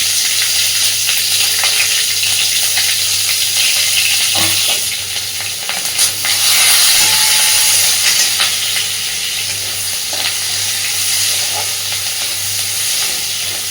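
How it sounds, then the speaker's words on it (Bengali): Chopped onion and green chillies with a little nigella seed lightly frying in hot oil, a steady close sizzle and hiss throughout with occasional stirring scrapes. "পেঁয়াজটাকে হালকা ভাজবো"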